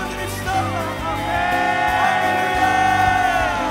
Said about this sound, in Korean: 우리 그 영광의 주님께 부흥의 하나님께 함성과 박수와 주님께 함성을 드립시다